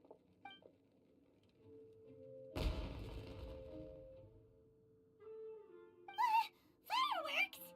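A firework-like burst in Genshin Impact: one sharp broadband blast with a decaying rumble in the middle, set between quiet stretches, with voices heard briefly near the end.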